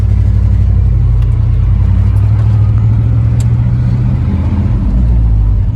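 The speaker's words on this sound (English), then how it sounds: "when you hit the brake, it tries to rev a little on you if you have it in neutral" A 1989 Chevy truck with no muffler gives off a loud, rough, low rumble that stays steady, revving slightly in neutral. There is no voice over the throaty drone.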